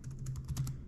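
Keys on a ThinkPad T440p laptop keyboard typed in a quick burst of about eight close, light clicks while a command is entered.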